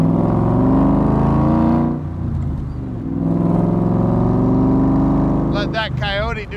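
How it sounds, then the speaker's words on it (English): Shelby Cobra Backdraft replica with a Ford Coyote V8 rumbles loudly and steadily up close, swelling and dipping in a rev before a voice breaks in at the end. "Let that Coyote do some talking for me"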